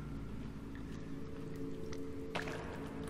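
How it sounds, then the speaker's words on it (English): Water dripping inside a dark cave in the video game The Forest, a few scattered drips and splashes over a low ambient rumble, with one clearer splash toward the end. "I hear water."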